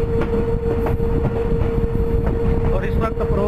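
A Pakistan Railway shuttle train on the Malakwal line approaches Pind Dadan Khan station at low speed, a steady heavy rolling rumble with a sustained mechanical whine and faint clanks, and a voice speaks over it.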